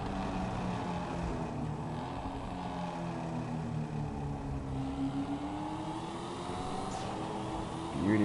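An old car engine in GTA V idles and runs with a steady low hum and gliding pitch, moderately loud and alone, with a brief swell near the end.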